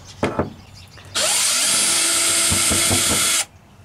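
Cordless power drill backing screws out of a Jeep Wrangler YJ fuel pump access panel, one loud high-pitched whine lasting about two seconds after a couple of light clicks, close up.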